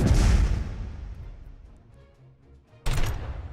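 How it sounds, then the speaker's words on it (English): A missile volley launches in the Master of Orion space strategy game with a loud rumbling blast that fades into a low trailing roar, followed by a second abrupt burst near the end. "Fire up a big volley of missiles and then leave."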